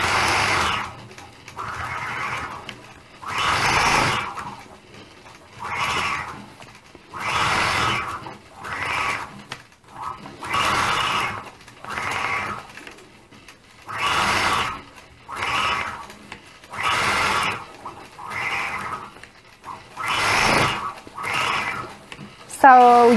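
A quilting sewing machine runs in repeated bursts of a few seconds each, stitching a section during ruler-work machine quilting, close and steady with brief pauses between runs.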